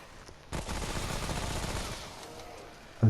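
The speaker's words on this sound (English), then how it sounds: "As you can see, the SMG have a good fire rate, a decent reload speed, and it's doing the job pretty well." Rapid SMG gunfire in Remnant: From the Ashes, a steady fast stream of shots holding for about two and a half seconds at moderate level, ending with a sharper hit.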